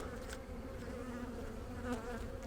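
Sluggish, starving honey bees buzz faintly inside a hive, a low, soft, continuous hum with slight wavering and no voices.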